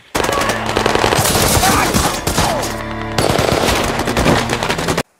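Rapid bursts of automatic gunfire from Taliban fighters in a movie battle scene rattle almost nonstop, loud and dense, with a brief dip midway before the shooting resumes and cuts off abruptly.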